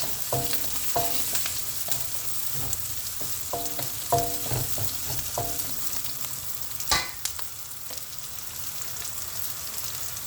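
Onion sautéing in oil sputters with a constant hissing sizzle while a utensil taps and scrapes the pan in quick clusters, one louder clatter near the end, no talk.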